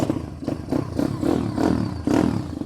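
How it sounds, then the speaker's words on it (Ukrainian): A Kayo TT140 pit bike, kick-start only, fires up and runs, its small engine putting out a loud, close, uneven sputtering rumble with repeated revving pulses, and no talking. "для того, щоб завести такий мотоцикл, ви берете ножку, робите отак от"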